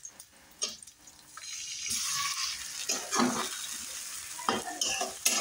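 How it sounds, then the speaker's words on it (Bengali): Red amaranth greens, previously frozen, tempered in hot oil in a pan, giving a steady close sizzle that swells midway, with scraping stir strokes and a few clanks of a spatula over it. "এখন লাল শাকটাও ফোড়ন দিয়ে নিচ্ছি।"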